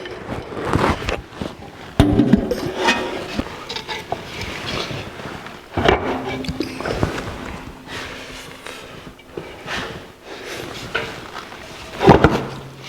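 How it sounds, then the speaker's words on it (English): Heavy metal parts of a 1949 Chevrolet transmission scrape, clunk and shift in irregular bursts, with grinding slides and knocks close by, ending in a firmer clunk as it seats onto the dowel rods. "That was the sound of the dowel rod sliding home."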